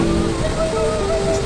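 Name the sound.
waterfall, water falling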